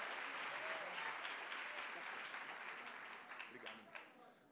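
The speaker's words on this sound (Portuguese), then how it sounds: "Se é para Jesus, você pode aplaudir com vontade." Church congregation applauding during a live worship service, a dense, steady roar of clapping that holds strong and then gradually thins toward the end, with faint voices mixed in.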